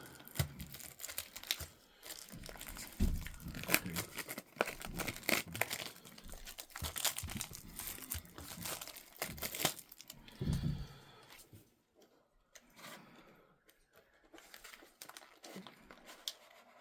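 Sealed Magic: The Gathering Spider-Man collector booster box being cut open and unwrapped up close, with crinkling plastic wrap, tearing and rustling cardboard, fading to quieter handling near the end.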